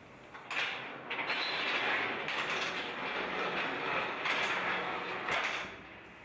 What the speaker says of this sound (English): The module can now be rolled out of the chamber.